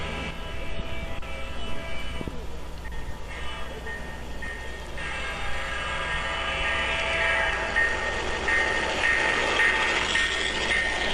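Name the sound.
model train running on a garden railroad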